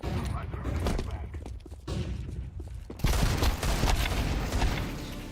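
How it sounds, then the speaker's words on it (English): A flashbang grenade goes off in a first-person shooter video game: a loud, broad burst lands midway through, amid thumps and rattling gunfire, with voices talking underneath. "I'm throwing the flashbang."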